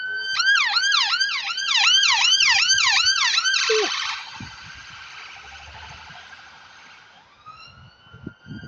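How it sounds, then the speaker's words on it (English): An ambulance siren wails in a rapid, rising-and-falling pattern, loud at first, then switches to a steadier tone and fades as it moves away. "Oh, there goes the sirens."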